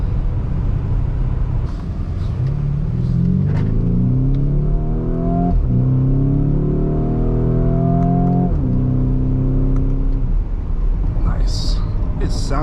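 A Lamborghini Urus accelerating hard in sport mode, its engine note climbing through repeated gear pulls with rising whine and loud rumble, heard from inside the cabin.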